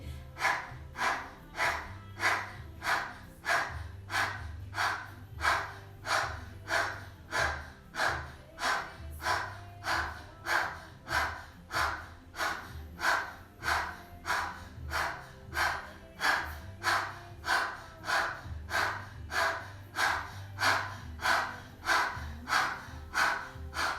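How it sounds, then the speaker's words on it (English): Breath of fire yoga breathing through the mouth during a kriya practice: rapid, evenly spaced forceful exhales, around one per second, close and loud, repeating steadily without talk. "we're breathing long, breath of fire through the mouth"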